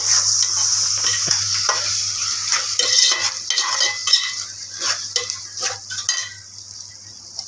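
Mutton and potato curry with masala sizzling and frying in a pan, with steady bright hiss and repeated stirring scrapes and utensil clinks against the pot, close and moderately loud, no talking.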